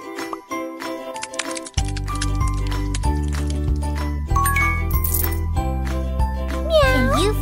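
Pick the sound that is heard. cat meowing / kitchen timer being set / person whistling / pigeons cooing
cat meowing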